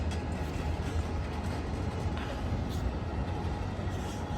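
An Amtrak Capital Corridor train led by SC44 locomotive 2124 pulls out of Emeryville station in California, a steady low rumble and droning engine noise rolling on without pause, with no talking.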